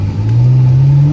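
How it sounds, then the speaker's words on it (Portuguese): A Porsche engine revs up loud and close, its note climbing smoothly in a single rising pull over about a second. "você vai ver como o bagulho berra. Berra mais que o Camaro"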